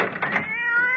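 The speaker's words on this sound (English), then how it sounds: "that damn cat!" A cat in a radio mystery drama lets out a single loud, close meow that trails into a drawn-out, wavering cry, heard alone without talk.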